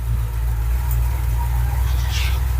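A car engine from a home-built project car runs roughly outdoors, a steady loud low rumble with a coarse uneven throb and no voices.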